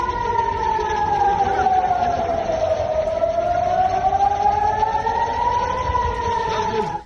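A loud air-raid siren wails steadily at night, its pitch slowly falling and then rising again in a long sweep, with no voices over it.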